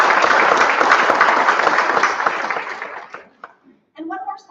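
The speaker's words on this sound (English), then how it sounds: "Please give them a round of applause for providing this event to us free of charge." Audience applause at a women's health day event, a dense burst of clapping from a crowd that holds steady for about three seconds, then thins out and fades. Brief voices and a short spoken phrase follow near the end.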